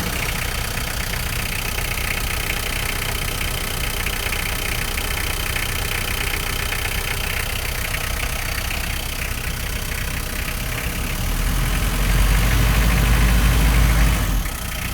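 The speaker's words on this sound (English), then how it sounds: "nice quiet running little diesel, really smooth, no smoke or anything" A 2001 Toyota TownAce diesel mini truck idles smoothly and quietly, a steady, even engine rumble heard up close for the whole stretch, with a brief louder low surge near the end.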